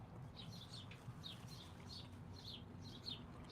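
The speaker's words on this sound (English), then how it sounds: "can you hear those birds?" Birds chirping outdoors, a lively run of short, bright, repeated calls at moderate distance over a low background rumble, fairly faint and with no talking.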